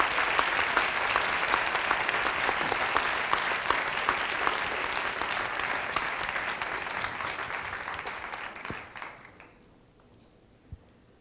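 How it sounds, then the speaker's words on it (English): Sustained applause from a youth audience at a public lecture on social business, honoring two professors on stage; dense steady clapping that fades out near the end, followed by a brief isolated sound in quiet. "let us put our hands together for a round of applause for both professors"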